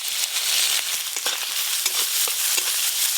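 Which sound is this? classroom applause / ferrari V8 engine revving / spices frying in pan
spices frying in pan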